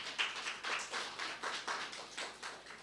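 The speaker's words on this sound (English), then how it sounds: "Could we give them a big round of applause?" Faint, sparse clapping from a small audience at a lantern-design workshop launch, in soft rhythmic bursts that sound distant and thin.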